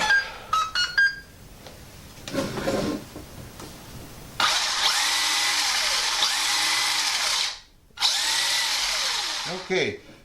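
Exceed RC DriftKing radio-controlled car with its electric motor running, a loud steady high-pitched whine with rising and falling pitch sweeps as the throttle changes, briefly cutting out before resuming, after some handling noises at the start.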